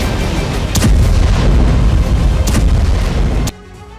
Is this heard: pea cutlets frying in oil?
no